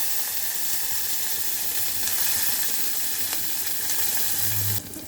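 Onion and curry leaves sizzle in hot oil with cumin, a dried red chilli and asafoetida, the tempering for a radish kulambu. A loud, continuous close-up crackle and hiss runs throughout, with a brief stir near the end.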